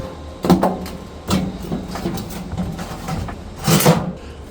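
Plastic-and-metal grease trap of a Weber Searwood pellet grill sliding back into place, a few close scraping, clunking bursts with short pauses between them, no talking.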